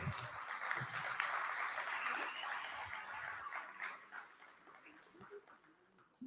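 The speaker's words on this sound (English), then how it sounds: "Let's give yourself a round of applause today." Graduating eighth graders and families applaud at a school promotion ceremony, a steady wash of clapping from a large audience that holds strong and then gradually thins and fades.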